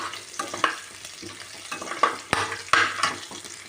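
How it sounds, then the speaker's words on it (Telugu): Onions, raw peanuts and cumin seeds fry in hot oil in a pan, giving a steady close sizzle broken by scraping stirs and a few sharper clinks of a spoon against the pan, with no talking. "పచ్చిపల్లీలు కూడా వేసి ఉల్లిపాయ ముక్కలు కొంచెం ఫ్రై చేద్దాము"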